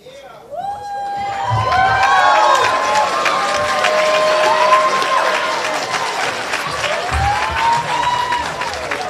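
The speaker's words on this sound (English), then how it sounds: "let's have another round of applause for that amazing," Audience at a high school International Day performance bursts into sustained applause and cheering, dense clapping with shouts and whoops filling the hall, close and loud throughout, with some voices rising over it.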